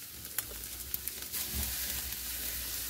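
Picanha beef sizzling on a barbecue grill, a steady crackling hiss with a few brief pops of fat, close and continuous over a few seconds.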